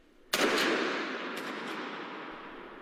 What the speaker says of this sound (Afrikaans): Ek het nog skote gehoor.